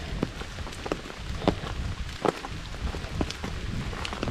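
Rain patters steadily on an umbrella along a forested Appalachian Trail path in Virginia, with heavier drops striking at irregular moments, close and constant with no talking.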